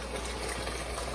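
A pan of vodka sauce bubbles on the stove, a brief, faint, steady hiss and burble of simmering liquid with no talk.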